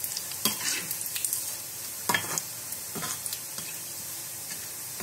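Boondi batter drops frying in very hot ghee, a continuous crackling sizzle with sharper bursts and splashy pops every second or so as batter hits the fat.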